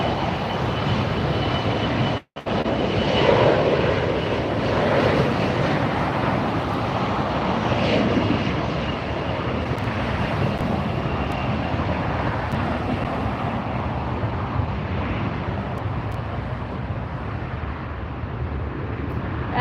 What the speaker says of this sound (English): We have American departing on the far side. And American departing on the near side.